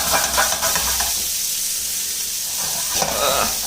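Meatballs sizzle and hiss loudly in a hot pan with little butter, a dense steady crackle with brief surges of steam, close up and with no talking.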